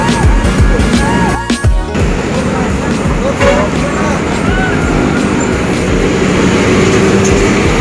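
A Harapan Jaya double-decker bus departing for Blitar at a busy terminal, with a loud, steady engine rumble and a brief clatter of moving parts. A voice is heard talking over the noise.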